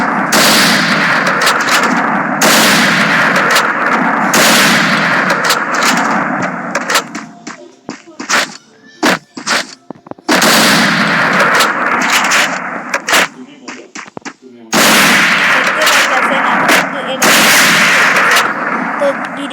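An AWM sniper rifle fires in a video game, firing loud, sharp gunshots in bursts with short gaps and clicking handling sounds between them, a few seconds of quieter action in the middle.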